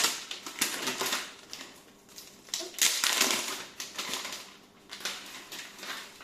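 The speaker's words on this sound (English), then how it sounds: "I'll take the plastic off." Plastic protective film peeled off a Cloud Gateway Ultra network unit, a run of crinkly, crackling bursts close up with short pauses between pulls.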